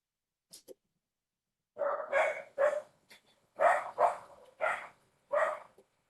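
Dogs barking indoors at a delivery driver: a few quiet yips, then a run of sharp, moderately distant barks in irregular bursts, with no talking.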